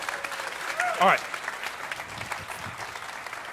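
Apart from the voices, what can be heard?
congregation applause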